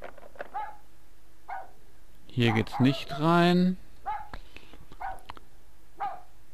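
A dog in the video game Rule of Rose lets out faint, scattered barks over low game ambience, while someone speaks briefly in the middle.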